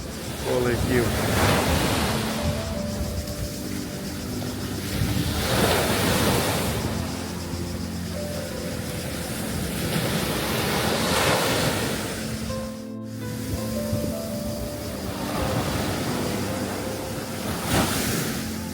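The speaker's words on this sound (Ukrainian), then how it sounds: "Море хвилюється сьогодні." Rough sea waves off Kefalonia surge and crash in repeated swells, with heavy wind buffeting the microphone throughout.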